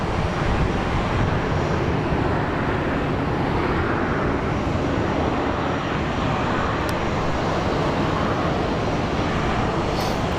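Broadband jet engine roar from airplanes taxiing and moving out at Phoenix Sky Harbor Airport, a steady loud wash that holds evenly from start to finish with no talk.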